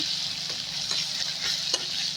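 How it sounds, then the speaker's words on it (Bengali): Tomatoes sizzle steadily in hot oil, a soft continuous hiss up close with occasional faint stirring scrapes. "আমি তেলে আগে টমেটোগুলো দিয়ে দিলাম"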